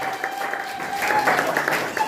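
A church congregation applauds after a prayer, steady clapping from many hands at moderate loudness, with a tonal hum running underneath.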